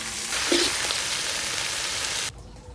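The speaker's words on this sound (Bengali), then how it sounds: "আদা রসুন আর পেঁয়াজ একসঙ্গে ভাজা হয়ে গেছে" Ginger, garlic and chopped onion fry in fish oil from rupchanda fish, giving a steady close sizzle and crackle with a faint stir, which ends sharply near the end.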